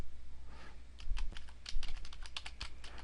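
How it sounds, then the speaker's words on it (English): Typing on a computer keyboard while entering code arguments, with a quick run of crisp, close key clicks in irregular bursts over faint background hum and no talk. "I'm going to go here and type in input output"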